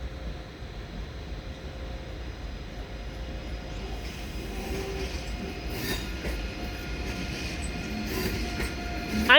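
A train pulling into Munich main station, bound for Frankfurt am Main, with a steady rolling rumble, faint wheel squeal and clatter that build slightly as it approaches. No voices are heard.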